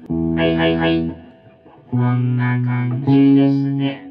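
A voice sung or spoken into a BOSS VO-1 vocoder pedal in vintage mode comes out as a robotic, chord-pitched tone in three sustained phrases, close and loud, with the spoken words shaped into buzzy synthetic harmonies.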